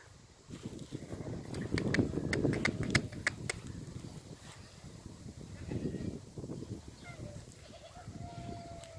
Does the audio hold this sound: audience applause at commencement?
no